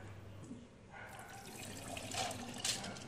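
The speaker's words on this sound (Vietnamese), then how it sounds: "Phần đậu đã xong á thì mình cũng đi rửa lại cái nếp nãy mình ngâm luôn." Water running and splashing as soaked glutinous rice is rinsed in a sink, close and fairly soft, a steady trickle that swells into brief sloshing near the end.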